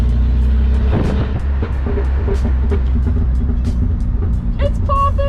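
BMW car under hard acceleration through a turn, loud engine roar throughout with crackling exhaust pops scattered across it, close and continuous, with excited voices faintly underneath.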